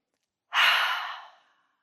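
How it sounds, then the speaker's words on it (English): A single long breath pushed out through a wide-open mouth, a soft airy exhale that starts abruptly, swells, then fades away over about a second in otherwise silent surroundings. "it is actually a really good idea to do it with your mouth open and wide when you are breathing out"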